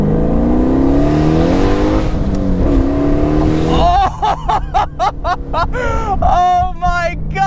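A 700 hp Pontiac Solstice on a straightaway with nitrous engaged roars loudly and steadily, then from the midpoint rises through sharp rising gear pulls, each surge cut by brief shifts, with people talking over the engine.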